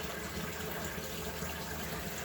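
Tap water runs and gushes steadily while sea moss is rinsed in a sink, a close, even wash of flowing water with no talk.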